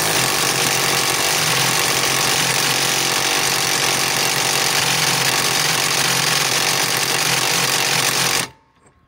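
A cordless impact wrench runs in reverse, hammering in a loud, continuous rapid rattle for over eight seconds before stopping abruptly into near silence.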